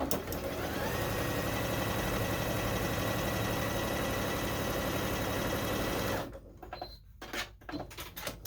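A sewing machine runs steadily for about six seconds while piecing jelly roll strips into a skyscraper quilt, a loud continuous mechanical whir, then stops abruptly, leaving a few quieter clicks and handling noises.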